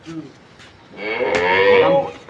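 A dairy cow at a cattle sale gives one long, loud, close moo that swells and then trails off, preceded by faint brief sounds.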